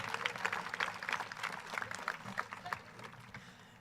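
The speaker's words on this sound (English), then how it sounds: "let us please take a moment to give a big round of applause to all of our remarkable student speakers" Audience at a Class of 2022 commencement ceremony applauding the student speakers, a dense, steady patter of many hands clapping that gradually thins toward the end.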